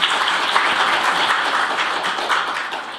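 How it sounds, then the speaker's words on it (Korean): Audience applause at a policy forum on veterans' compensation in Korea, a brisk, even burst of clapping from a seated crowd, fairly loud and close throughout. "의원님께 다시 한번 박수 부탁드립니다."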